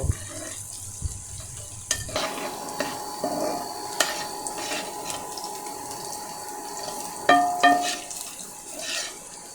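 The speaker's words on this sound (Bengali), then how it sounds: "এটা ব্রাউন কালার হওয়া পর্যন্ত আমি পেঁয়াজটাকে ভেজে নিব।" Sliced onions and a bay leaf fry in oil in a pan. A steady low sizzle runs under it, with intermittent scraping and stirring clatter and one sharper burst near the end.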